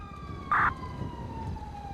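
A police siren from a GTA V roleplay game sounds as a steady, slightly falling wail with one short louder blip, heard over low game ambience and no talking.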